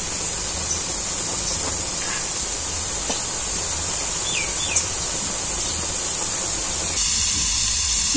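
Water sizzles and steams in a pan of salted cooking greens, a steady close hiss running throughout, with faint bird chirps in the background and no talk.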